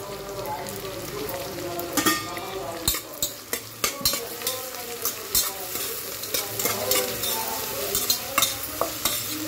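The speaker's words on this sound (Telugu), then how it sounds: "కారానికి తగినంత పచ్చిమిర్చి, ఒక 4-5 పచ్చిమిర్చి వేస్తున్నాను." Onions and green chilies sizzle steadily in a pan while a spoon stirs them, giving a continuous frying hiss broken by frequent scraping clacks of the utensil against the pan.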